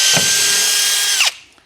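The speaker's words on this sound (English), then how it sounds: "I gotta go through 3 layers: stainless, wood core," A power drill bores through a stainless steel top with a wood core and metal layer, a loud steady whine that cuts off abruptly after about a second, no voices.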